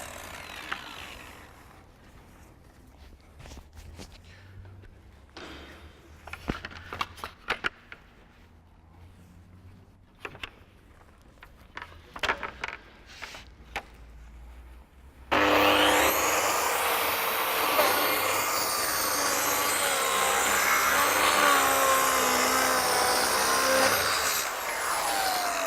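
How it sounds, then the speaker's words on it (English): A power saw cutting an Equitone fibre-cement facade panel with a dust extraction vacuum, a loud continuous whine starting partway through after quieter handling sounds and knocks. "usually the vacuum system works with the saws"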